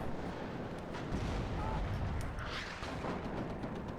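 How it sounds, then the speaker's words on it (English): Artillery fire rumbles across a battlefield in the real-time strategy game WARNO, with continuous heavy booms and deep blasts rolling at a moderate distance under a dense, noisy din. "Artillery coming in again down in this corner."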